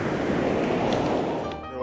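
Ocean waves washing onto Torbay Beach, a steady broadband surf rush with wind noise across the microphone, fairly close and continuous, easing slightly near the end.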